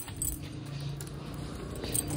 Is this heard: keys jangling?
yes